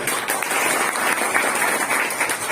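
An audience applauds a special guest at an English class event, producing a steady, dense wash of clapping that stays loud and even throughout, with no individual claps standing out.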